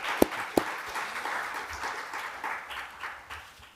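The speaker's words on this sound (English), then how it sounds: "will the audience please join me in a round of virtual and physical applause for our panelists" Soft, thin applause from a small audience at a conference on deepfakes and international security, with a couple of sharp nearby claps at the start followed by a faint, diffuse patter.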